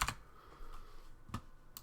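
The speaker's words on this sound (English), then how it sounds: "I'm typing on the one hand here" Typing on a computer keyboard, a few sharp, close keystrokes spaced irregularly with quiet gaps between them, no voices.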